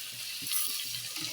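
Chopped onion and tomato fry in a pan for a Bengali prawn mustard curry, giving a faint, soft sizzle with light stirring scrapes close by.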